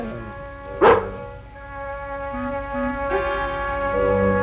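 A dog gives one short, sharp bark, loud and close, over a steady background of sustained musical tones that continue throughout.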